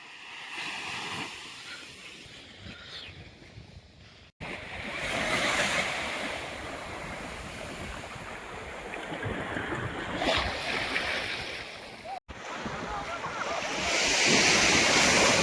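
Sea waves washing onto a village shoreline where dried fish is rinsed in seawater, a continuous rushing surf with wind buffeting the microphone, steady and fairly loud throughout.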